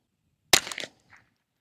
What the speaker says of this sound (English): And we are going to shoot the bottom left target.